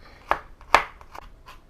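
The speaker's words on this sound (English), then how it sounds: "I am just going to be mincing mine down a little bit." Garlic cloves minced with a knife on a cutting board, a few sharp chops with softer taps between, close and alone.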